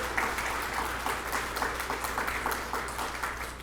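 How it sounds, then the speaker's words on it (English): Steady round of applause from a press conference audience, many hands clapping continuously at moderate volume for several seconds with no voices over it. "A round of applause."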